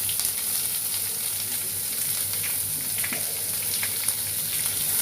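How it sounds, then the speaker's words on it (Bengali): Chopped onion fries in hot oil with five-spice seeds, dried red chillies and bay leaves for a dal. A soft, steady sizzle and crackle runs continuously, faint and close, with no talking. "5 ফোড়ন, শুকনো লঙ্কা আর তেজপাতা একটু লাল লাল হয়ে এলে আমি দিয়ে দেব পেঁয়াজ, কুচনো পেঁয়াজ।"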